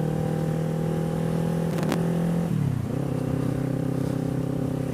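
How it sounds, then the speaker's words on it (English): Motorcycle with a loud exhaust holding a steady rumbling idle, then briefly dropping and settling back into an even, throaty drone close to the microphone. "that exhaust is loud"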